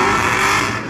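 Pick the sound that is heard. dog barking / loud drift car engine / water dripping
loud drift car engine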